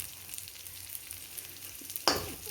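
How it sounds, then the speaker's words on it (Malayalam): Chillies fry in oil with salt added, a quiet steady sizzle and crackle, with a sharp louder burst of spattering near the end. "കുറച്ച് ഉപ്പ് ഈ ഫ്രൈ ആകുന്നതിലോട്ട് ഇട്ട് കൊടുക്കുന്നുണ്ട്"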